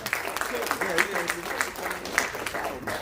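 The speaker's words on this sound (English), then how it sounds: "let's give him a round of applause" Church congregation at a Sunday morning worship service applauding, a steady patter of many hands clapping at moderate volume, with voices mixed in throughout.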